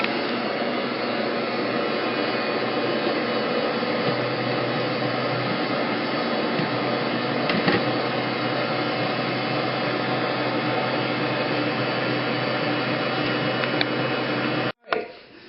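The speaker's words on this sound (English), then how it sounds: "we're going to turn it on and let it mix for a minute" A Bosch Universal Plus stand mixer kneading bread dough made with hard red winter wheat runs as a loud, steady motor whir that holds constant throughout, then cuts off abruptly near the end.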